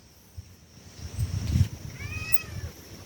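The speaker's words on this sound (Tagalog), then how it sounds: "Ay, pusa." A cat meows once in a clear, rising-and-falling call, moderately near, after some rustling and thumping movement outdoors.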